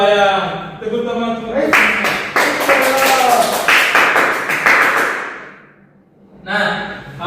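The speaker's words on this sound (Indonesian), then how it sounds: "Tepuk tangan." Schoolchildren in a classroom break into loud, dense applause for about three seconds. A teacher's voice comes just before, and talk resumes after the clapping fades.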